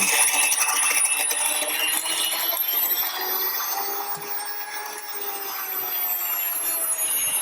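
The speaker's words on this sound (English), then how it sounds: "But I'm milling this, we're on the bread setting." A countertop grain mill grinds grain on the bread setting: a steady, close, high whirring drone that holds evenly for several seconds with a slight dip midway, no talking.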